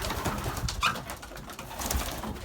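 Young Belgian racing pigeons inside their loft coo softly and rustle, low throaty calls rising and falling in a close, continuous murmur with a few brighter flutters of wings.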